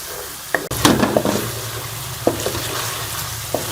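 Masala of tomato paste, coriander powder and red chili powder frying in a pan for Punjabi chicken, a close sizzle with a sharp clank and a few scraping stirs over a steady low hum.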